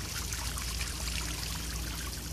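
Water sprays from a garden hose among climbing roses, a continuous dense hiss and patter that holds steady and loud throughout without pause.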